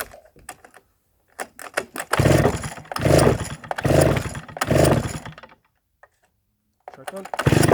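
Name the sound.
Stihl 08S chainsaw being started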